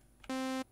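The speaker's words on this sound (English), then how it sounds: "And if we lower the cutoff" A synthesizer saw wave played through a low-pass filter with the cutoff lowered. A single loud, steady buzzing note lasts about a third of a second and stops abruptly. There is no talking.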